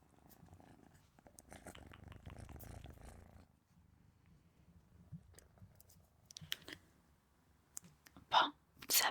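A small white long-haired kitten purrs softly and steadily while being petted, a close, low rumble with brief rustles and scratchy touches, and louder handling noises near the end.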